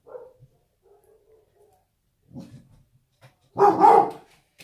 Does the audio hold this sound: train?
no